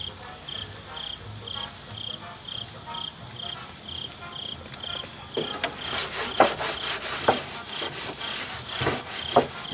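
Acetone-soaked rag rubbed over a car floor while old asphalt sound deadening is cleaned off: a soft scratchy swishing at first, then louder, quicker rubbing strokes with brief scuffs, close by and without talk.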